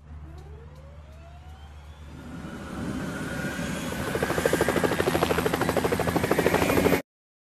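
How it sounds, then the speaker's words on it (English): A toy firefighting helicopter sound effect plays alone, its rotor chop building from a soft start into a loud, steady whir with a siren-like tone, then cutting off abruptly. "Firefighting helicopter."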